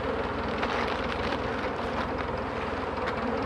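Honey bees buzz as a dense, steady drone around a beehive, a continuous close swarm hum with no pauses from start to end.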